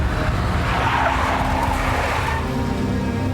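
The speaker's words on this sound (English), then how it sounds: "A big black Mercedes." A big black Mercedes skids in the Max Payne video game: a loud, sustained tire screech over a car engine, lasting a few seconds.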